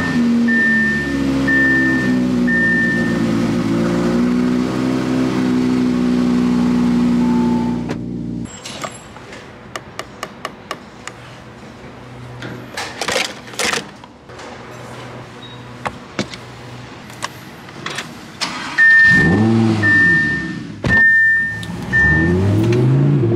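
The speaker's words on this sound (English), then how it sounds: "The sound of an R8 cold start in the morning." An Audi R8 cold start on a morning: a loud steady engine drone for about eight seconds, then quieter clicks and mechanical ticks, before the engine note swells loudly again near the end.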